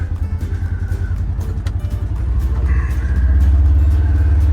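A Polaris Ranger engine in low range, towing a Yamaha Grizzly uphill, drones with a steady mid-pitched rumble that grows louder and heavier toward the end, close and continuous.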